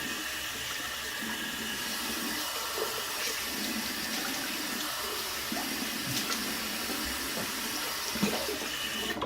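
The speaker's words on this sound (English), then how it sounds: "Let me wet my face." Steady broadband hiss of tap water running continuously into a sink while a man wets his face before shaving, with no talking.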